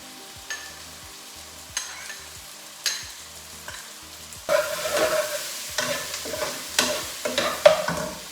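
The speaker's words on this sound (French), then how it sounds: "Là, vous allez mélanger en fait jusqu'à temps que vous voyez que l'ail commence à fondre, à devenir un peu doré" Onions and garlic frying in a pan for rougail saucisse, a soft steady sizzle punctuated by repeated scraping stirs of a spoon, growing louder and busier halfway through as the garlic is added.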